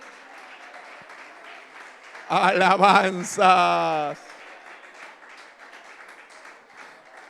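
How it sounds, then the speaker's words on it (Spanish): A church congregation applauds quietly in the background while a voice rings out loudly over it for a moment in the middle, the clapping continuing faintly before and after. "Puede darle aplausos al Rey si usted lo cree."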